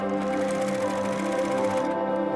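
A sewing machine zigzag-stitches a fabric waistband, a rapid mechanical whirring with a fine regular ticking of the needle, close and steady for the whole stretch.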